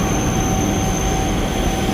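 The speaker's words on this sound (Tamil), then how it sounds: "7:55 வண்டி கிளம்பியாச்சு." The 7:55 suburban train pulls out of a Chennai station, a steady loud rumble of wheels and motors with a thin high whine held over it, continuous and close, no talk.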